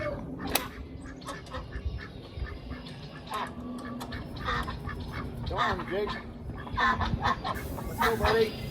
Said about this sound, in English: The ducks do not like snow, and they usually don't come out right away when we have snow on the ground.